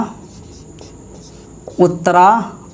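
Marker or chalk strokes on a board during a Hindi lesson on Indian states bordering neighbouring countries, giving soft scratchy rubbing that builds to a louder burst near the end, with a voice in the background.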